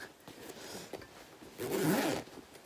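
A 90 cm separating zipper on a sewn garment is drawn closed in one quick, close rasping pull lasting under a second, with quiet room tone before and after and no talk.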